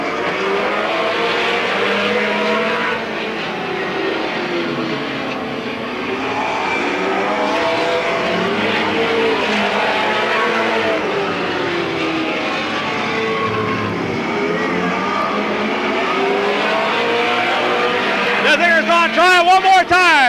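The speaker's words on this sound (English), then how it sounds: "Richie's pressuring Rich every lap, every lap." Race cars circling the oval at Midvale Speedway during the 1995 Fall Classic, a continuous loud blend of engines droning and swelling as the field passes, with a sharper burst of engine noise toward the end.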